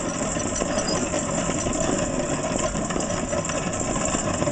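A Lehman's hand grain mill grinds grain between iron burrs with a steady, dense, gritty rumble and crunching that carries on evenly and close throughout.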